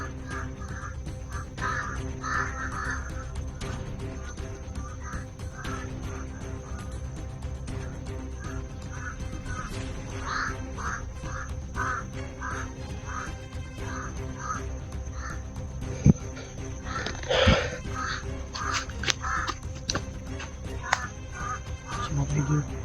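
Crows caw repeatedly outdoors, harsh calls coming in uneven clusters over a steady background of other birds and ambient noise, with a person talking now and then.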